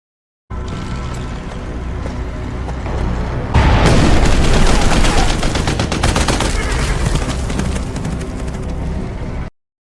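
Heavy tank gunfire and explosions from the war film Sisu: dense, rapid volleys of shots and deep booms, loud and continuous, swelling sharply about a third of the way through.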